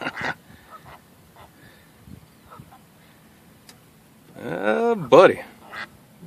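Two ducks mating on water give out loud, close, harsh quacks and honks in a short burst near the end, after quieter moments, with a voice speaking briefly.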